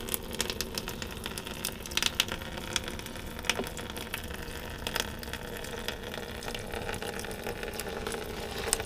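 Coolant drains from a Kawasaki ZX10R motorcycle, a continuous splashing trickle of liquid with scattered small clicks and spatters at moderate, close volume.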